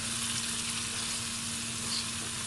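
Chicken pieces frying in a pan for salsa chicken, giving a steady, even sizzle throughout with no talking, ending on a brief clink.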